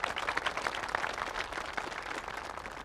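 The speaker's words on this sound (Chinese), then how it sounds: "咱们用最热烈的掌声欢迎领导的到来。" A crowd claps to welcome a visiting deputy town official, a brief, fairly faint patter of many hands lasting a few seconds without a break.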